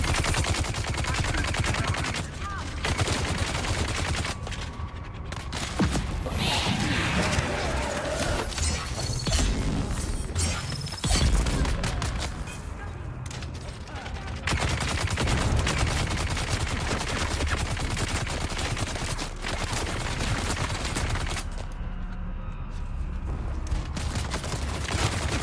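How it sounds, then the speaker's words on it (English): Gatling guns in the Dune Awakening deep desert rattle in long, loud, sustained bursts, broken by brief pauses before the rapid fire starts again. "I call them the Gatling guns because that's what they are"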